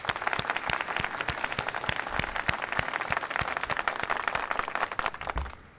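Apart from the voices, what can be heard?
audience applause for a summit partner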